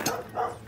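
Dogs on a farm give a short bark followed by a second softer yelp, fairly near, over faint outdoor background.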